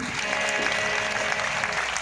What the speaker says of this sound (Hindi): आप लोग ताली बजाओ तो सारे बजाना, नहीं तो दो चार बीच में चटर चटर मत करना, सारे बजाना।